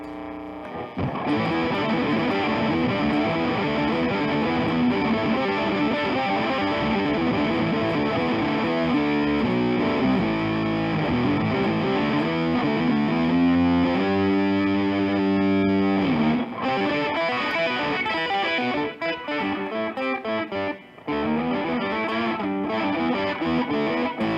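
An electric guitar plays distorted riffs and chords through a T-Rex octave pitch-shifter pedal, each note doubled an octave above, below and a fifth, giving a thick, layered, synthetic tone.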